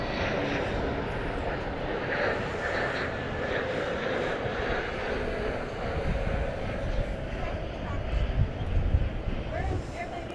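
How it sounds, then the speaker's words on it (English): American Airlines Airbus A321 jet in PSA retro livery at DFW Airport in the evening, a steady distant engine rumble with wind buffeting the microphone and some speech underneath. "It's Airbus A321 in the PSA retro livery."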